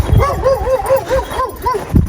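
A dog barks and yips rapidly in a rhythmic series of short, close, high-pitched calls.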